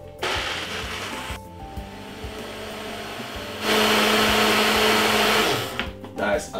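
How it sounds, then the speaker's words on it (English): Blender whirring steadily as it blends Jamaican peanut punch ingredients with sweetened condensed milk, covered, a constant motor drone that grows louder and harsher partway through before dropping off near the end. "Blend it for roughly about probably 7 minutes."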